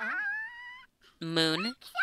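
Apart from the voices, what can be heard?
dog whimpering in a video game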